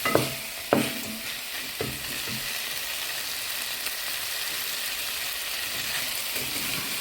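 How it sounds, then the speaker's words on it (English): Pork is stirred in a metal sufuria as it fries with tomatoes and onions: a few close scrapes and clinks early on, then a steady, even sizzle with no talk. "I will stir the pork until"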